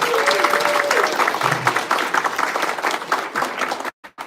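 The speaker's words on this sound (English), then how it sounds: "So a big round of applause for Markwell, please." An audience at a volleyball banquet applauds in a dense patter of clapping, with a brief whistle early on, before the clapping cuts off abruptly near the end.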